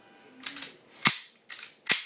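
Four sharp pistol shots from a .40 caliber Beretta 96A1 with an aluminum frame, fired at cans 15 to 20 yards off, each crack decaying quickly in an uneven pattern with quiet between them.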